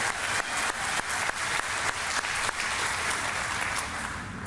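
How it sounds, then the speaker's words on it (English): Steady audience applause at an airport police facility ribbon-cutting ceremony at LAX, a dense wash of many hands clapping together, moderately loud and close, running the whole time without talk. "Give her a round of applause as well"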